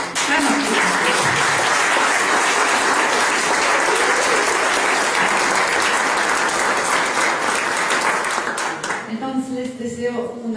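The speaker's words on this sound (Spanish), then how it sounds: "Entonces un gran aplauso por ese gran aplauso" Loud, sustained applause from an audience at a talk fills the hall for about nine seconds, a dense wash of clapping that trails off abruptly, leaving a moment of quieter room sound and a voice at the end.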